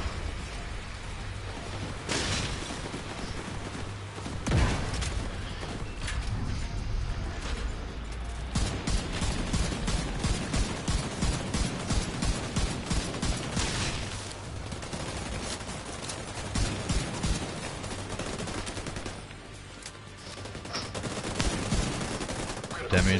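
Heavy gunfire in The Division 2, with repeated rapid bursts and single shots in a dense, loud firefight, plus a few booming impacts and brief voices in between.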